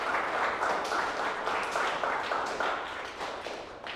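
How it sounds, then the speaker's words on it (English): Audience applause for Chris at a high school gathering, steady clapping from a room full of people that holds for about four seconds and tapers slightly toward the end. "Everybody give Chris a round of applause for coming up."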